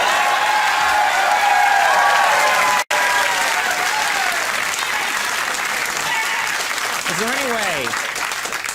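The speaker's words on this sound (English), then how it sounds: "Is there any way, Jeff, we can take the applause that was there and with a machine put it back on the joke" Sustained applause from a large talk-show studio audience fills the whole stretch, steady and loud, with a brief cut near the start and some faint voices mixed in.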